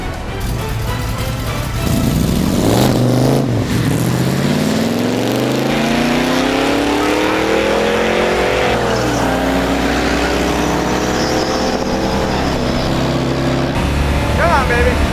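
A junkyard Plymouth Cuda fitted with nitrous oxide roars down a drag strip, its loud engine climbing steadily in pitch through the gears for about fifteen seconds of sustained, close, full-throttle noise.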